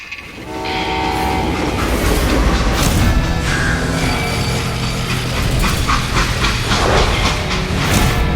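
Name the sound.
steam train in a video game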